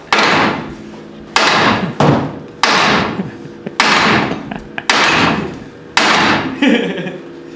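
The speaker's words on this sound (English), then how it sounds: "50-pound sledge. Always gets the job done." A 50-pound sledgehammer strikes metal in a garage during a Bronco prerunner build, landing seven loud, heavy blows at a steady pace, each with a sharp impact and a ringing decay.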